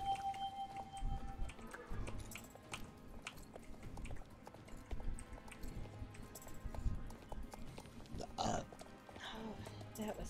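Horse hooves clip-clop irregularly on the ground during training, the steps mixed with shuffling and scattered handling noises, moderately close, while a voice speaks over parts of it.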